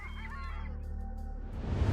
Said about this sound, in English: Today, around 260 species of wild birds live in the Ulan Suhai Lake Reserve